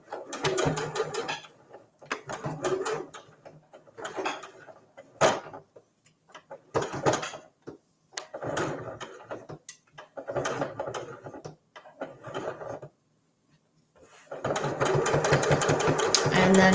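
Sewing machine stitching a microwaveable mug cozy, running in short rhythmic bursts with brief pauses between them, then a longer continuous run at the end.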